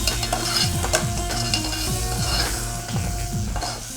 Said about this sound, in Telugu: ఇప్పుడు అల్లం వెల్లుల్లి పేస్ట్ వేస్తున్నాను.